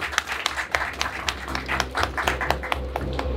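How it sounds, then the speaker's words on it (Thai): Scattered audience clapping for a team at a Thai horror film event, sparse uneven hand claps over a low hum, fairly quiet and thin rather than a full ovation. "ขอเสียงปรบมือนะครับให้กับทีมที่ได้ช่วยกับทุกท่านนะครับ"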